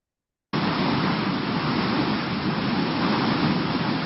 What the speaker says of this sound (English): See a storm here.